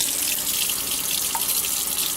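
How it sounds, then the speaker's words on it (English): Tap water runs steadily into a small saucepan, filling it for coffee with a continuous close hiss and splash. "A little bit more than 3 coffee mugs of water in a small saucepan."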